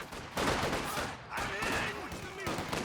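Machine gun fire in a real-time strategy game, heard as dense, sustained bursts of shooting. A commentator talks over the shots throughout.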